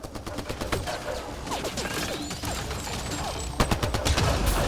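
Sustained sci-fi gunfire in the video game Mass Effect: Andromeda, rapid overlapping bursts and shots in a continuous fusillade, with whizzing projectiles and a louder cluster of impacts near the end.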